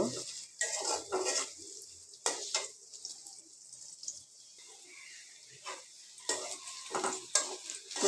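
Onion fries lightly in oil in a pan while a utensil stirs it, producing clattering scrapes in irregular bursts over a faint, steady sizzle, with no talking.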